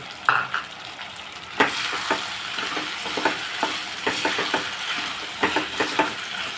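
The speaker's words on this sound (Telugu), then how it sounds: "ఇప్పుడు మనం ఇందులో ఇవి కూడా మామిడికాయ ముక్కలు కూడా వేసేస్తున్నాం" Raw mango pieces stirred into a sizzling potato curry in a pan, with a steady frying hiss and repeated scraping strokes of the spoon, close and fairly loud, without speech.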